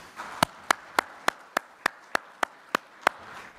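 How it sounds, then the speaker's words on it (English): Slow, isolated claps at a wireless industry summit, about ten sharp single hand claps spaced evenly, close and fairly quiet rather than a full audience ovation. "So let's give him a round of applause, please."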